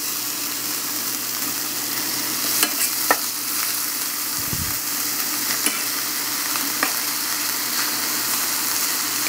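Hot-smoked bacon sizzles steadily in a frying pan without added oil, a constant crackling hiss with occasional sharper pops, close by and with no talking.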